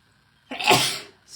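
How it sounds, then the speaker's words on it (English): A single close, loud human sneeze bursts out after a short quiet pause, followed by a brief breathy trailing sound. "I gotta sneeze"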